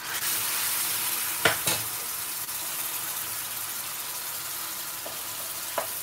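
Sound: base gravy added to hot pan, sizzling and stirring

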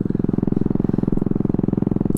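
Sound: Honda Ruckus scooter engine accelerating from a traffic light

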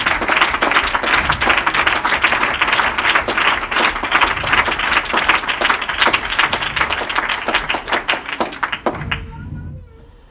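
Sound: congregation clapping hands

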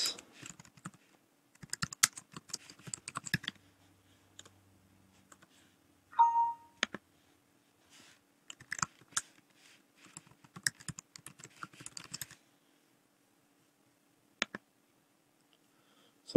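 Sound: computer keyboard typing and mouse clicking

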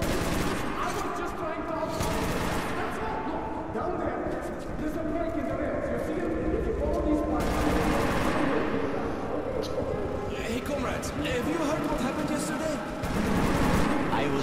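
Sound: gunfire in video game Metro 2033

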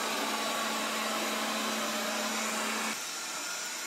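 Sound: Proscenic 820S robot vacuum cleaner running

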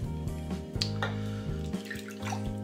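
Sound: water running while preparing a traditional shave

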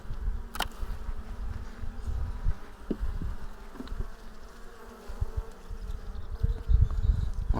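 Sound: honeybees buzzing in hive

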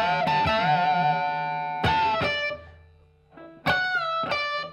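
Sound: distorted electric guitar bend, riff

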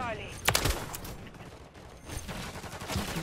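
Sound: gunfire in a video game shooter

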